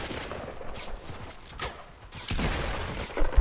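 Gunfire from a PS4 video game comes through as a dense spray of shots and fusillade-like bursts, heard at moderate level with game ambience and a louder crack near the end.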